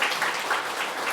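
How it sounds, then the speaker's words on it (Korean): Congregation applauding at a Christmas church service, a steady wash of clapping from many hands filling the hall for just over a second, with no voices over it. "다시 한번 박수로 우리 한번 격려하겠습니다"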